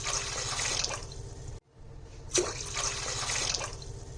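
Water pours steadily into a large pot for papad dough, a continuous splashing rush that briefly cuts out before resuming, close and fairly loud with no talk.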